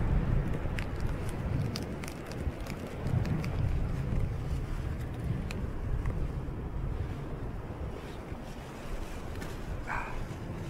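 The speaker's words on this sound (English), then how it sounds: "There's a front coming in. Wind is picking up." Wind blows across the Oregon coast while surf perch fishing from the shore as a front moves in, a continuous low rushing roar buffeting the microphone, with faint surf beneath and no talk.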